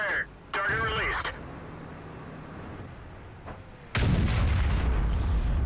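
A tank gun shot from an SU-152 in World of Tanks on the Cliff map: one heavy, booming blast lands near the end, after a stretch of radio-style voice chatter and low game rumble.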